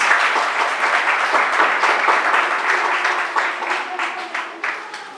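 An audience at a school PP2 graduation applauds in a dense, sustained burst of clapping that fills the hall and tapers slightly near the end, with a few voices underneath.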